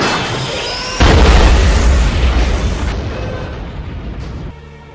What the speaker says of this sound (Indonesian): menembakkan tabung gas yang cukup besar agar dapat membunuh sebagian